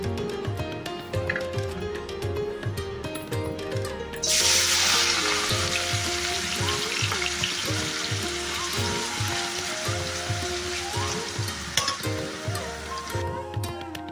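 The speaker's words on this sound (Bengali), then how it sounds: "অল্প ভেজেই এই আলুটা তুলে নেব। আমার প্রথম ব্যাচ ভাজা হয়ে গেছে, এইভাবে আমি প্রত্যেকটা ব্যাচ ভেজে নেব।" Shredded potatoes frying in hot oil in a home kitchen, a steady dense sizzle that swells louder partway through and carries on without pause, with faint utensil stirring and clinks and no talking.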